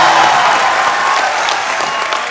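Studio audience at a Hindi comedy talk show bursts into loud, sustained applause for a ghazal singer's entrance, dense clapping throughout with no speech.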